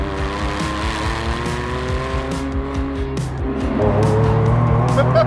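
A turbocharged 1.6-liter three-cylinder car engine making 300 horsepower drones steadily with a rough, pulsing idle that rises in revs toward the end, loud and close.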